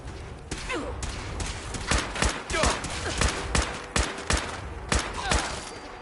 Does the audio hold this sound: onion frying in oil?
no